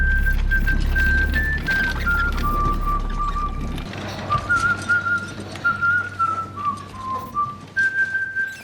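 A doctor in Severance whistles a tune, a clear, close melody of sustained, gliding notes. A low rumble sits under the first half, then drops away, leaving the whistle over faint background.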